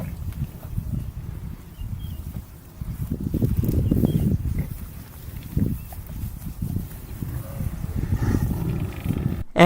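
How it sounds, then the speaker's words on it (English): Lioness surrounded by a herd of buffalo in the wild, giving low rumbling growls and roars that swell and fade amid shuffling hooves and movement, fairly close and loud. "This lion was hunting for buffalo when she ended up getting completely surrounded by them."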